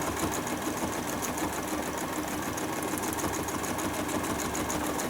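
Steady mechanical whir of a sewing machine stitching swirls in bleachwork fabric, continuous and even without pauses, moderately quiet with a faint rhythmic pulse.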